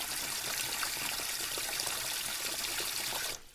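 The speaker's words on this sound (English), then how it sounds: "go and find a bucket with a handle and fill it about 1/3 full of water" Water pours steadily into a bucket filled about a third full, a continuous close splashing trickle that stops abruptly near the end.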